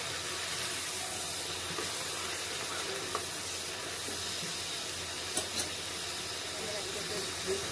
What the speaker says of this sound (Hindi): अब इसको भी मैं एक अच्छा 2 मिनट भूनूंगी